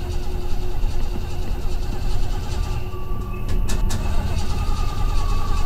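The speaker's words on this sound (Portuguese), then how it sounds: "Ok, ligar o carro." Car engine in a video game turning over without catching, a loud continuous rumbling grind that runs the whole time, with a couple of brief clicks near the end.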